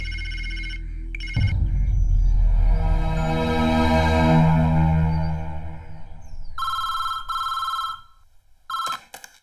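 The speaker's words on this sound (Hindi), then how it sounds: "अरविंद, तुम्हारे लिए फोन है।" A telephone rings in a Hindi film scene, bursts of electronic bell tone repeating near the end after a low rumbling passage, with no one speaking over it.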